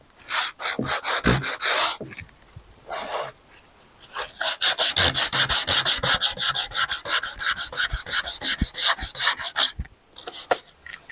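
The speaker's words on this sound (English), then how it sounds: "Now I'm going to sand the groove with a couple of spots where it burned a bit." A burned groove in a cherry wood cutting board is hand-sanded with quick, rhythmic back-and-forth strokes, loud and close, pausing briefly before a long run of rasping passes.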